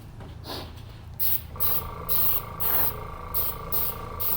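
Repeated short bursts of an airbrush spraying sand-colored weathering dust onto an HO scale empty coal train, close and fairly quiet, each hiss lasting about half a second with a steady low hum between bursts.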